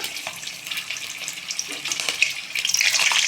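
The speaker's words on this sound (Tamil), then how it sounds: "கடுகு போட்டு அது நல்லா பொரிஞ்சு வரணும்" Mustard seeds spluttering in hot oil for an egg masala gravy: dense, crackling pops and hissing that build toward the end, close and bright.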